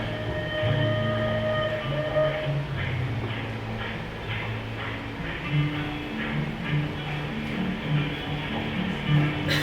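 A recorded train ride plays as a prelude, with a steady rumble and rhythmic rail clatter under sustained tonal whistle-like hums, loud and continuous throughout.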